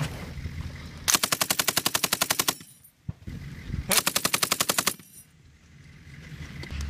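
Machine gun fire from a joint US Marine and Romanian Army armored live-fire assault: two loud, rapid bursts of close automatic shots, each lasting over a second, separated by a brief gap with a single sharp report.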